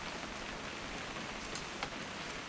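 Steady video-game rain falls on a surface, a constant wash of drops with a few louder individual splats, with no voices.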